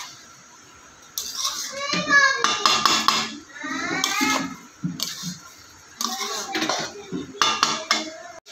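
Metal cookware clanks and scrapes as a cooking pot of cabbage with ghee is lifted off the stove in a home kitchen, a run of close, bright clatters and knocks with someone talking and a voice in between.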